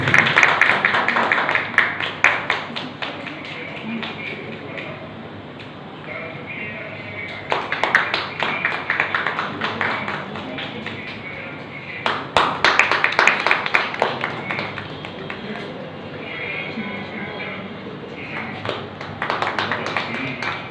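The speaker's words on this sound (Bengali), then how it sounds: "জোরে হাততালি হয়ে যায়।" Applause at the Bangasree Samman 2025 award ceremony comes in several bursts of loud hand clapping, rising and fading between stretches of a voice speaking over a sound system.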